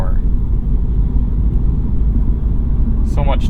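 2022 Mini Cooper S hardtop 2-door with a six-speed manual, its engine giving a loud steady low rumble while accelerating toward highway speed, heard from inside the cabin, with a brief voice near the end.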